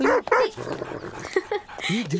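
A pet dog yelps and whimpers in short excited bursts mixed with sharp barks, close and loud, in a lively domestic comedy scene.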